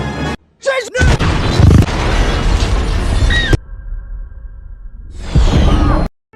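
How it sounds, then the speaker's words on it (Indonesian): A bomb explodes in a Spider-Man movie scene after the Green Goblin plants it in Dr. Strange's magic box: a loud booming blast with whooshing debris, a brief quieter lull, then a second heavy roaring burst that cuts off abruptly. "Tiba-tiba Green Goblin muncul memasukkan bom ke dalam kotak sihir Dr. Strange dan meledak."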